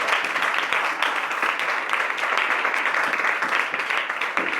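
A church congregation at an evangelical service applauds, a dense, steady wash of many hands clapping together, sustained and even throughout.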